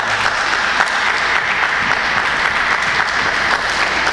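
Church congregation applauding to acclaim the Lord, a steady, dense wash of clapping from many hands that holds at an even, fairly loud level throughout without pauses.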